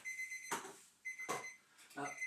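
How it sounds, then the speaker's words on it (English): An egg timer rings in repeated bursts during an older adults' exercise class, its bright, steady tone broken up by a voice talking over it. "Keep going until you hear my egg timer."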